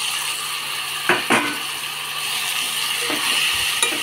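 Chopped tomatoes sizzle in a frying pan for prawn gravy, a steady low hiss broken by a few sharp scrapes and clinks as a spoon stirs them through.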